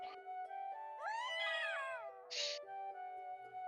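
A goblin in a .hack video game gives a drawn-out, rising and falling cat-like meow over steady synthetic game tones, with a short hiss-like burst just after it.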